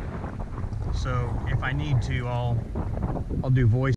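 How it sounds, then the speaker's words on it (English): Low, rumbling wind buffets the microphone continuously by a river while a person talks over it. "It is very windy down here."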